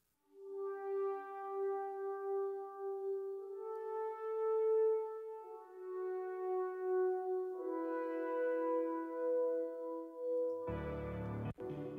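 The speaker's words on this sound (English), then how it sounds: "And then I've got an ARP, three tracks of ARP synthesizer." Sustained ARP analog synthesizer tones, three layered tracks, glide between held notes, ending with a brief burst of noisy, rattling sound.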